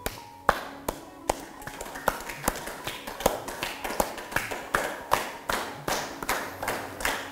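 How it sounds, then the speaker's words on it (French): Steady, evenly spaced hand claps above the head during a yoga session ring out nearby, around two per second, crisp and sharp, without any talking. "Vers le haut de la tête, applaudir en haut, comme ça."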